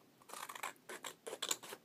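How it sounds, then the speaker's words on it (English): Scissors snipping through paper to cut out shapes for toy food packets, several short crisp cuts in quick bursts, close and quiet with no talk. "cut out"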